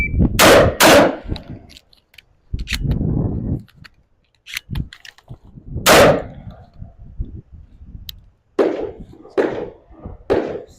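Shotgun blasts from a pump-action and a semi-automatic fired rapidly in a side-by-side comparison, loud sharp reports in quick clusters with short gaps between strings, close and dominant with no talk.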